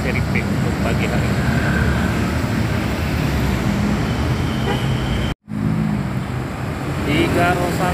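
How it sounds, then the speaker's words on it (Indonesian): Three Rosalia Indah buses, including Rosin double-deckers, pull away toward Ciledug. A loud, steady engine and traffic roar fills the clip with a voice over it, cut by a brief dropout before the rumble resumes. "Tiga Rosalia Indah sekaligus diberangkatkan Rosin double decker dan satu lagi Rosin menuju ke arah Ciledug"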